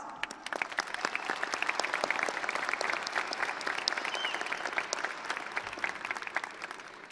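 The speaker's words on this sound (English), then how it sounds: "let's give them a round of applause." Audience applause for teachers and staff at Thornton High School, a steady dense clapping from a crowd that holds evenly for about seven seconds with no talking.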